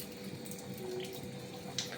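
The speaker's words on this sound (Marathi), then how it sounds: "सगळं पाणी सांडतंय खाली" Water splashes and pours steadily as it spills from a leaking water filter, a continuous broadband rush like a running tap spilling onto a surface, close by and unbroken.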